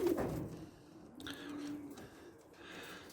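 Domestic pigeons, including a young ringed bird and its father, coo softly in a garden loft, with low throaty calls rising and falling in an outdoor setting and no speech.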